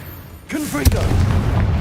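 In a wizard video game, a Confringo exploding spell goes off as one sharp, deep boom right after a brief shouted voice, followed by a short rumbling tail.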